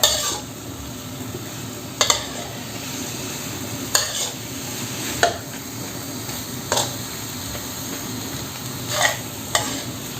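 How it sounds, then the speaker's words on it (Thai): Curry ingredients for a Thai prawn and santol curry being stir-fried in a pan: a steady sizzle punctuated by a handful of sharp spatula scrapes and knocks against the metal, close and fairly loud. "ผัดให้เข้ากันนะคะ"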